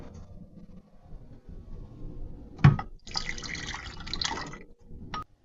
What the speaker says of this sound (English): I just poured enough water in there to cover the seeds